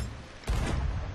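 A ship's cannon fires once in Sea of Thieves, a sudden loud broadband boom midway through that rumbles on to the end, with no talk over it.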